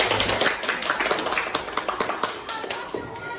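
A classroom group claps for itself before presenting, sharp hand claps from several students coming in quick, uneven bursts, fairly close and fading slightly toward the end.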